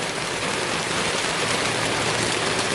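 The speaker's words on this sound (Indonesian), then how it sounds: "ini masih hujan." Heavy rain pounds steadily on a Tarptent shelter, a dense, continuous hiss and patter filling the space with no pauses and no voices.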